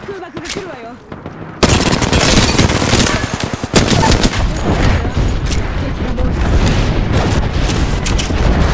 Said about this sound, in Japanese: 空爆が来るわよ。